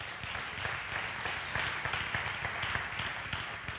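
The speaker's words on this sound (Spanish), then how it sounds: "Quiero que le dé un fuerte aplauso al Señor por lo que vamos a testificar ahora." A church congregation gives a dense, steady round of applause to the Lord during a sermon on healing power. The clapping is moderately loud and sustained throughout, with no speech over it.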